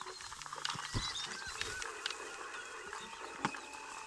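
Birds in the Ghost Giant VR game honk in short, repeated goose-like calls, scattered and fairly close over a soft ambient background, with no talk.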